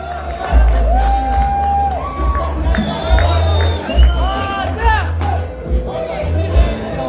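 Fans at a boxing media workout for David Benavidez at the MGM Grand in Las Vegas cheer, whistle and whoop in loud, rising bursts, with someone speaking over the crowd.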